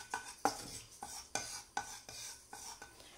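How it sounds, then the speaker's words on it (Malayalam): Turmeric powder is stirred into shallots in a pan for a Kerala coconut fish curry, with about eight distinct spoon scrapes and knocks against the pan in an even rhythm, close and fairly quiet, and no talk. "മഞ്ഞൾപ്പൊടി ചേർത്തിട്ട് ചെറുതായിട്ടൊന്ന് വഴറ്റണം."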